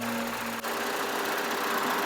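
A car engine runs steadily right after starting, a continuous close mid-pitched hum with a faint vibrating roughness and no talking.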